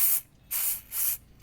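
Throttle body cleaner sprayed onto the VVT solenoid of a Toyota Fortuner 2TR-FE engine, three sharp, loud aerosol hisses in quick succession with brief pauses between them.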